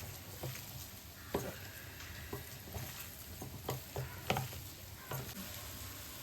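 Shark meat for sura puttu, mixed with turmeric and salt and fried with onions, is broken up and stirred in a frying pan, giving faint, scattered scraping taps and soft sizzling patter at a quiet, close level.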